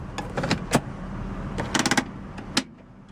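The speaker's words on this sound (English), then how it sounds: "Automatic driver's side window." A 2007 Mitsubishi Galant GTS with a 3.8 engine runs its automatic driver's side power window, giving a close, uneven series of clicks and short whirring bursts inside the car.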